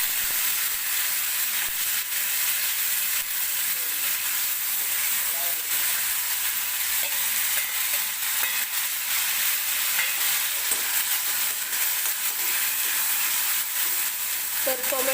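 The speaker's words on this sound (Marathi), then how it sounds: "तर टोमॅटो सुद्धा मऊ होईपर्यंत आपल्याला व्यवस्थित तेलामध्ये भाजून घ्यायचं आहे." Chopped tomato and curry leaves frying in hot oil in a pan, a constant loud sizzle and crackle with occasional stirring scrapes throughout.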